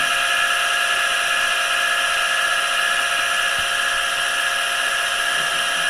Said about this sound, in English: Now we will know the speed of the motor by tachometer. It is around 1480 rpm.